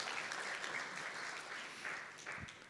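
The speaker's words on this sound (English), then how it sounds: "thank you, applaud yourselves." A breakfast briefing audience applauds itself, a dense, steady patter of many hands that sounds somewhat distant and fades slightly at the end.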